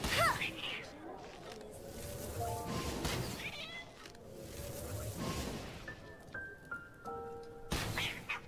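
A cat in the video game Genshin Impact gives a few short meows among game effects and music tones, while a player talks faintly at times.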